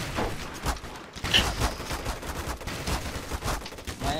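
Gunfire in the video game Hitman: Silent Assassin, a dense burst of rapid shots and fusillade that runs steadily for several seconds with no talk over it.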